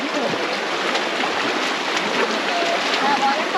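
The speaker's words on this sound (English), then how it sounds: "A mini waterfall right there." A small waterfall in the Zion Narrows rushes in a steady, loud broadband roar of falling water, close by and continuous, with no other sounds standing out.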